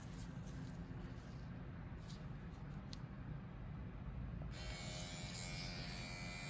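A microneedling pen buzzes steadily as it traces slowly along the eyebrows, a close, continuous electric whir with a brighter high-pitched edge in the last couple of seconds.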